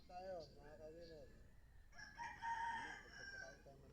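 Chickens and a rooster at a gamecock farm during morning feeding, with a rooster crowing twice in drawn-out calls and hens clucking nearby, recorded faintly.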